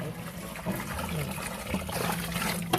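Lye water is poured into a vat of natural indigo dye, a soft continuous trickle and dribble of liquid with a faint splash near the end, close and steady throughout.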